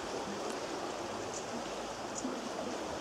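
Water runs steadily over drilled quarry rocks in a garden water feature beside a pond, a constant close, even trickling wash with no pauses.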